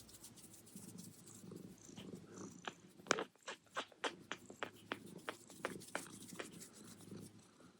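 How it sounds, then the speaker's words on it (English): A black cat purrs close by in a steady low rumble, joined by a run of sharp clicky taps and soft chewing-like noises in the second half. "I hope that cat purrs add to the energy."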